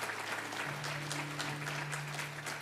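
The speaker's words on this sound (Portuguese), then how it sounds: "Você podia dar um aplauso a Jesus?" Church congregation applauding during a service, a steady wash of clapping throughout with a low sustained hum or tone underneath.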